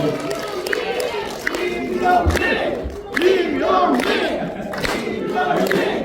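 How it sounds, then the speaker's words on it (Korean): Crowd at a citizens' talk concert in Gwangju cheers and shouts, with whoops and raised voices rising in waves over a steady background of noise. "큰 박수로"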